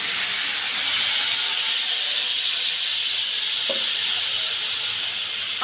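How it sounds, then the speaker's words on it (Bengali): Ginger paste and a spice paste drop into hot oil for a Bengali potato and pointed gourd curry, giving a loud, steady hiss of sizzling that holds unbroken throughout. "এই পেস্টটার আদা বাটা দিলাম।"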